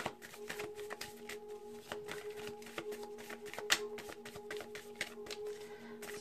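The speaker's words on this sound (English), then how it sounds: "I'm going to give it a good shuffle." A deck of tarot cards is shuffled by hand, giving a quick, close series of soft riffling taps and flutters over several seconds, with no talking.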